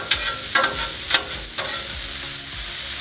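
Peppers and onions sizzling loudly on a hot Blackstone griddle, a dense continuous fry hiss close up, punctuated by a few scraping stirs of a spatula across the flat-top surface.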